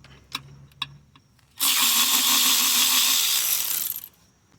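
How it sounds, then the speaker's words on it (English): A power tool, likely an impact driver, zips loose a 10 mm flywheel bolt on a 2008–2012 Honda Accord 2.4 for about two and a half seconds, loud and steady, after a couple of light metallic taps. "I'm gonna be removing the bolt and the flywheel right now"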